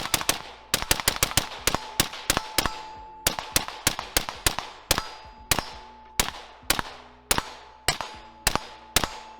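A suppressed SIG Sauer MCX SURG rifle firing M193 55-grain 5.56 NATO ammo: a rapid string of loud, sharp cracks with metallic clangs, some in quick bursts and others evenly spaced, ringing briefly outdoors.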